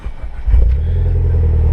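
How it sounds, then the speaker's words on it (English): A Mitsubishi Evo X MR engine catches after a short crank and settles into a loud, deep, close-up idle rumble that holds steady to the end. There is no talking. "but let me start the engine up"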